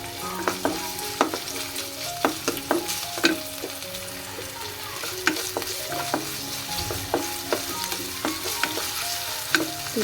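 Garam masala spices and two green chilies fry in a pan with a paste, a constant close sizzle broken by repeated scraping stirs and clinks, with no talking.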